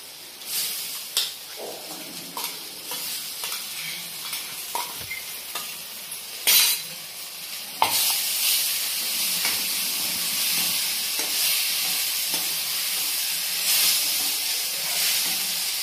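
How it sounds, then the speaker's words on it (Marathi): Ground fenugreek and spinach paste poured into a hot pan for garlic spinach-fenugreek curry, a sudden loud burst of sizzling and hissing steam after light stirring clinks, close and continuous, no talk. "आता याच्यामध्ये हे मेथी आणि पालक वाटून घेतलेलं आहे ते टाकून घेते"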